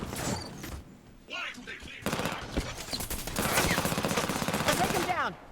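Gunfire in the Halo 5: Guardians video game, with rapid automatic bursts and loud shots in dense stretches, under game voices and effects.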